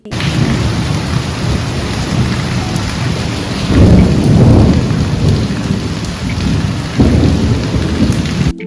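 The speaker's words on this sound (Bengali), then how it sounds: "উঠে দেখি মুষলধারে বৃষ্টি হচ্ছে বৃষ্টির পরিমাণ কিন্তু বেশ বেশি" Heavy pouring rain at dawn, a dense, loud, continuous roar of downpour on surfaces, with low rumbles of thunder swelling in the middle and again near the end.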